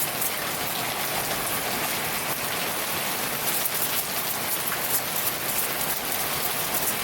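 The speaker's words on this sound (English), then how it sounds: "with this rain sound" Steady rain falling, a dense continuous hiss of drops on surfaces without pauses, even in loudness throughout and no voices.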